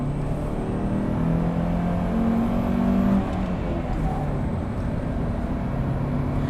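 A second-generation Honda CR-V with a manual gearbox pulls under acceleration, the engine drone rising in pitch and dipping between gears over steady road and cabin noise.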